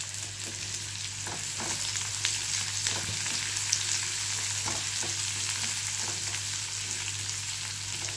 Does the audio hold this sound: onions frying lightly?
yes